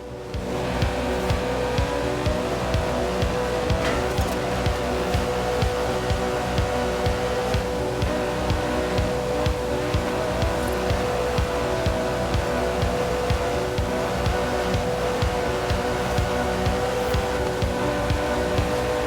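Aston Martin DB11 with a 5.2-litre twin-turbo V12, driven in the racing game Forza Horizon 4: a steady, loud engine drone with a rhythmic pulsing throb, continuous throughout with no voices.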